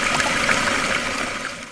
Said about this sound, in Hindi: अरे यहाँ से भी पानी बह रहा है।